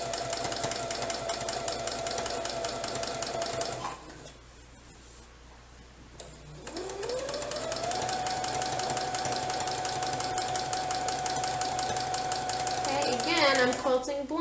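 A small domestic sewing machine runs steadily during free-motion quilting, a fast mechanical whirring and ticking that stops for about three seconds, then starts again and carries on to the end.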